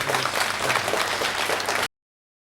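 An audience breaks into dense, loud applause that fills the hall evenly for nearly two seconds, then cuts off abruptly into silence.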